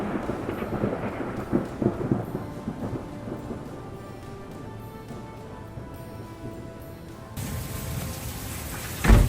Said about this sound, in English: Heavy rain and constant thunderstorm activity blanket North Texas, turning the sky into a dramatic display of violent weather.